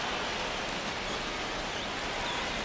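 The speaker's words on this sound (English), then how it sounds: "This rain is not letting up." Steady rain falling during a baseball game in MLB The Show 25, a dense, even hiss of drops with no breaks, holding at a constant level throughout.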